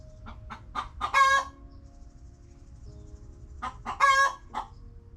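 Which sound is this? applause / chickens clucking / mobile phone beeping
chickens clucking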